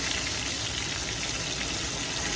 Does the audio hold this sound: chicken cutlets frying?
yes